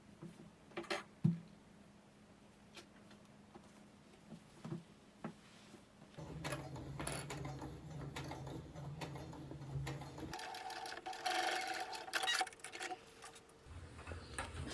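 A sewing machine stitches fabric for a camera pouch in short bursts, its motor whirring for a few seconds at a time between quieter stretches of clicks and handling noises, close and fairly soft.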